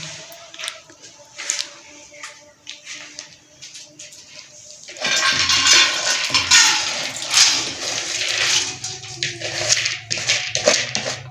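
After some clinks and handling noises, water pours steadily and loudly into a metal pressure cooker holding lentils, splashing continuously until the end.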